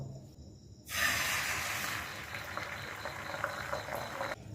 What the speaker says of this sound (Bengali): ডিমটা এবার ভেজে নেব